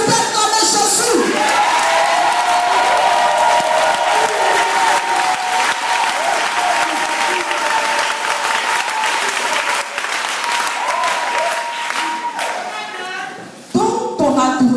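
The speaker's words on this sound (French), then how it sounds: "Est-ce que tu peux acclamer Jésus?" A church congregation at a Sunday service applauds and cheers loudly and continuously for nearly the whole span, a dense wash of clapping with voices raised, fading out briefly near the end.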